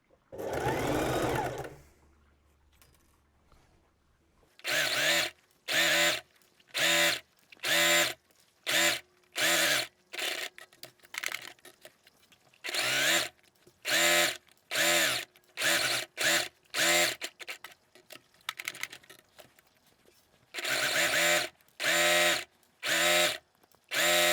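A sewing machine stitches a seam on a fabric tablet case, running in repeated short rhythmic bursts with brief pauses between, loud and close, after a short opening stretch of quieter sound.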